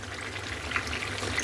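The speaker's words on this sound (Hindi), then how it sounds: "मैं यहाँ 1 कप के करीब इसमें पानी ऐड कर रही हूँ।" Water is poured into a pan of chicken curry to make gravy, a soft steady trickling stream, faint and continuous in the background.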